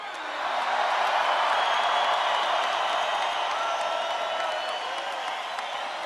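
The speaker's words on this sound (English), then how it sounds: "Give them another round of applause" A large campaign rally crowd in Colorado Springs applauds and cheers for President Trump, a loud sustained roar of clapping and whoops that swells quickly and holds steady, fading slightly at the end.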